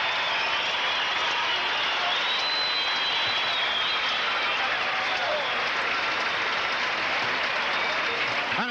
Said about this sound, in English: And this crowd is excited.